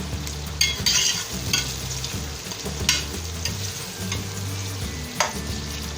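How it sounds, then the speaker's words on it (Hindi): Onions browning in hot oil for a creamy spinach and mutton curry, with a steady sizzle and repeated scraping stirs of a spoon in the pan, fairly close, under a low steady tonal hum. "ये प्याज जब तक ब्राउन हो, जब तक ये प्याज ब्राउन होता है"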